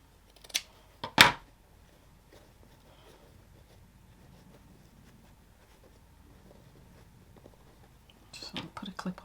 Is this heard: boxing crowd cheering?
no